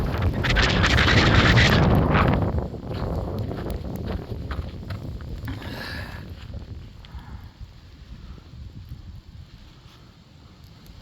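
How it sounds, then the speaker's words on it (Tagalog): Loud, steady wind rumbling against the microphone in snowy Texas, strongest at first and then easing to a softer, continuous gusting roar. "Lakas ang hangin"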